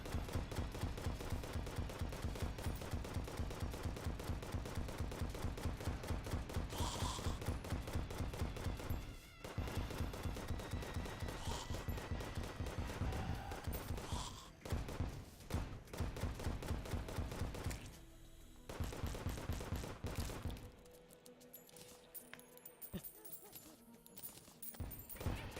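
Rapid, continuous Phoenix Blaster gunfire in the video game Terraria, a fast rhythmic stream of sharp shots with short pauses and exploding ammo bursts, with faint voice underneath.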